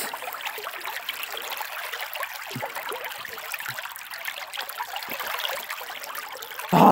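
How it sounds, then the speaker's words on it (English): Steady trickling and splashing of cold spring water flowing out of rocks close by, a continuous bright babble with a brief louder burst at the very end. "Water literally flowing right out of the rocks."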